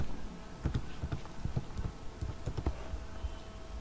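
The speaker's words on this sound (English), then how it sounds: "Just I am typing" Typing on a computer keyboard, a steady run of quick light key clicks with irregular rhythm, close and moderately quiet.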